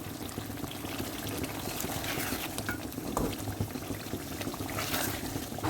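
A cake spatula scraping around the sides of a karahi, with continuous wet scraping and stirring noises close up and no talk.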